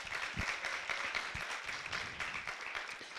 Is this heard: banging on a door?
no